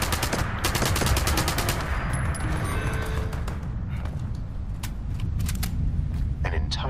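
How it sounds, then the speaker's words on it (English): Video game gunfire crackles in rapid automatic bursts, dense at first and then scattered single shots and short volleys, with a voice talking over parts of it. "Someone else is shooting, not him."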